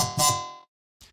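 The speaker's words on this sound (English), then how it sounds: "I've got a delay. This is a really, really high feedback, which creates that interesting metallic texture." SynthMaster One synth hit run through a very high-feedback delay with a metallic ringing texture, cut abruptly by a gate after about half a second, then a short second burst follows.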